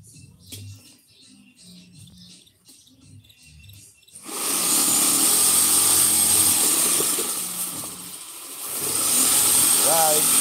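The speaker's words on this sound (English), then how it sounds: "I hear them drilling" A power drill drives screws into a vinyl fence during installation, a loud steady whine starting partway through and holding to the end, with people talking quietly beforehand.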